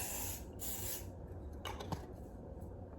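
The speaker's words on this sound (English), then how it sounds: "I just spray it through my hair like this and really focus at the ends" Heat styling spray hisses in short bursts through hair, two close breathy sprays followed by softer rubbing and rustling of hair.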